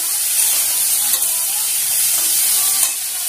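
Pointed gourd and raw banana with salt frying in hot oil in a pan, giving a steady close sizzling hiss throughout, with faint stirring scrapes and no voices.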